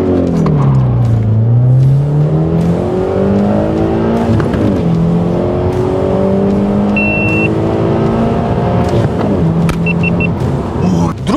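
A turbocharged Mitsubishi Eclipse GS accelerates from 0 to 100, its engine climbing steadily in pitch through several gears with brief dips at each shift, loud and close from inside the car.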